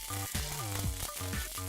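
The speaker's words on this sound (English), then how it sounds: "the bananas are just getting a little bit seared now" Bananas searing in a pan flambéed with rum and vodka, a steady close sizzle running throughout with faint tonal hum and a few soft clinks.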